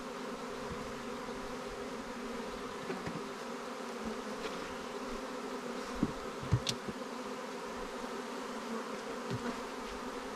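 Honeybees settling into a new hive, a steady low buzzing hum from many insects heard close, with a few soft bumps and individual bees passing.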